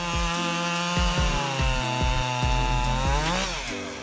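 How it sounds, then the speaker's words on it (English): A Homelite Super XL chainsaw drones steadily while cutting wood, its loud engine pulsing with repeated bogging dips as the blade bites in, ending with a brief rev. "this chainsaw easily tackles demanding jobs."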